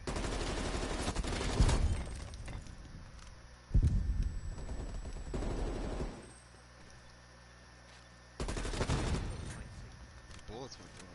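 Bursts of rapid automatic gunfire from an M16 rifle in the shooter game Call of Duty: Black Ops Cold War, three loud volleys separated by quieter gaps, with a voice talking in between.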